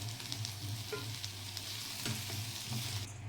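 Chopped onion fries in oil in a pan for a chicken gravy, giving a steady, close sizzle with a low hum beneath and a few soft scrapes of stirring throughout.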